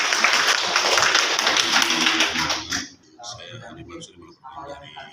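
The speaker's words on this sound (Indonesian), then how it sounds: "Tepuk tangan dok." Brief applause from a small audience at a health professionals' press conference in Lamongan, a dense burst of clapping lasting a few seconds before it cuts off and talk resumes.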